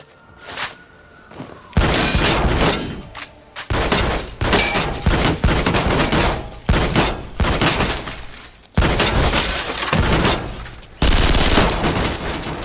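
Film gunfight with rapid bursts of gunfire tearing through car bodies, loud dense volleys of shots and metallic impacts in long blasts separated by brief gaps.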